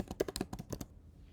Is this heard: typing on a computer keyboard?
yes